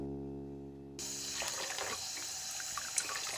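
A kitchen water tap in the video game Phantasmagoria turns on and runs with a steady splashing hiss after a low hum, close and continuous.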